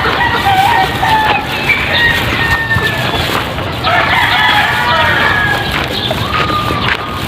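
Native chickens clucking in a coop, with steady close clucks and occasional higher calls over a rustling background as someone talks throughout.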